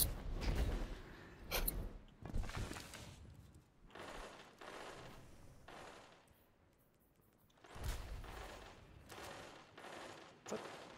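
Video game gunfire as a player sprays shots at a wall, bursts of rapid mechanical firing in several loud clusters separated by quieter gaps.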